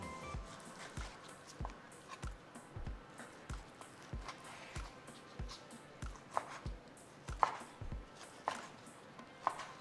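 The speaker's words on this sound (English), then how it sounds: "now we're just going to be cutting it into small little pieces." Knife chopping chuck roast into small pieces on a cutting board, a steady run of close, soft thuds at a brisk regular pace, with no talking.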